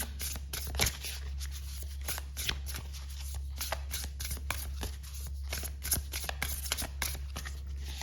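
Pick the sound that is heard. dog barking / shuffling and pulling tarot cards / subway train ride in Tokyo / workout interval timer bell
shuffling and pulling tarot cards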